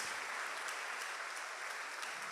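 A church congregation claps in steady, dense applause for Jesus during a Portuguese-language worship sermon, a continuous wash of hand claps with no voices standing out.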